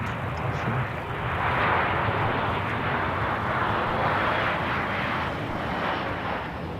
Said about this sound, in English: That's the inbound from Sydney. Jetstar 767.